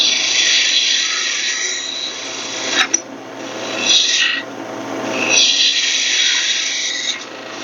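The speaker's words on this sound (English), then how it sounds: "And here I'm just going to use my bowl gouge." Bowl gouge cutting a wooden goblet stem spinning on a lathe, a loud continuous hissing, rasping shear that swells and eases as the cut moves, with a brief knock partway through and no talk.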